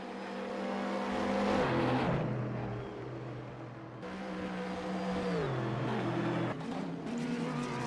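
GT3 race cars, including a BMW and a Corvette, racing at Spa-Francorchamps in a racing video game: a steady loud engine drone with rising and falling pitch as the cars accelerate, with gear shifts, and no voices.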